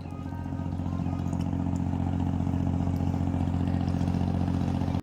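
Fishing trawlers passing one after another on the Bishkhali river in Bangladesh, a loud, steady chugging diesel engine thrum with rhythmic clatter that holds evenly from close by, then cuts off abruptly.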